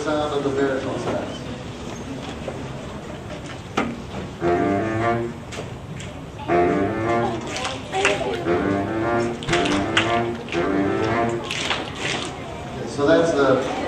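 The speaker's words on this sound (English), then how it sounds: "This is the sound of the baritone sax." A baritone saxophone plays a series of short, low, growly notes separated by brief gaps. The instrument sounds close and plays alone.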